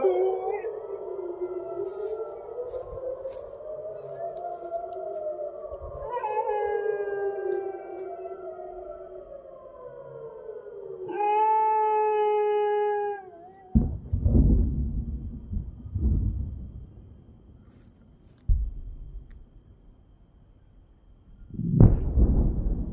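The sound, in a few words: air raid siren with a dog howling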